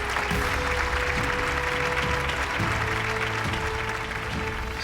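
Sustained applause from a large audience at a Tamil television event, a dense, even wash of many hands clapping that carries on steadily throughout.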